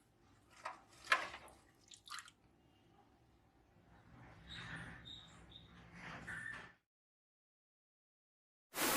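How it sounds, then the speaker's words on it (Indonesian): Coconut milk sauce is poured over thick mung bean porridge, making soft wet splashing and trickling sounds in short bursts that then settle into a quieter stream before stopping, followed by a brief sharp noise at the end. "Lalu siram dengan kuah santannya."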